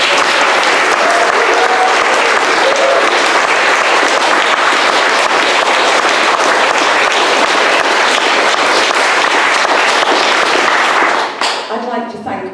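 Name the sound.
audience applause for a poet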